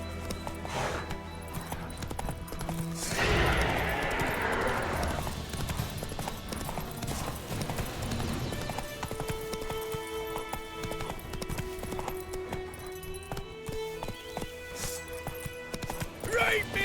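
Roach, the horse in The Witcher 3, gallops with rapid hoofbeats and lets out a loud whinny, alongside game ambience and voices talking over it.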